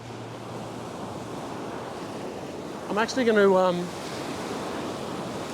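Ocean surf washes steadily onto a fishing beach, a continuous broadband roar with wind; a person speaks briefly midway over it.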